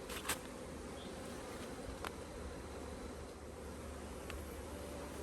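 Honey bees swarm around an opened beehive frame with a steady, dense buzz that hangs evenly in the air, close and continuous, with a few brief knocks and no voices.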